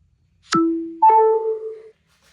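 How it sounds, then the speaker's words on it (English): A phone gives a clean two-part electronic chime as it connects to a MagSafe wireless charging mount on a Harley. A quick falling ding leads into a longer ringing tone, close and clear in near silence. "you can listen for my phone connecting to the charger when I set it down here"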